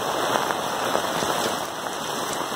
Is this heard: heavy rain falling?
yes